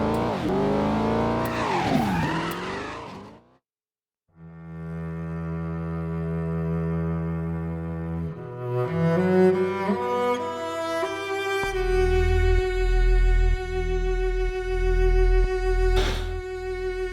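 Engines in the Midnight Club II racing game rise and fall in a sustained, whining pitch. Loud car sounds drive through the run, with a short gap of silence early on and a roaring, buzzing push near the end.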